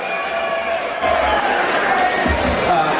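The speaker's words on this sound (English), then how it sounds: "Much love from the crowd for Drew Phoenix." An amateur fight crowd roars for Dru Phoenix, steady cheering with a bump in volume about a second in, under a commentator's voice.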